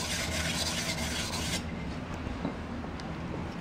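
A stone rubs along an ice skate blade, a rough rasping scrape that is loud for the first second and a half, then fainter intermittent scraping strokes, with no voices.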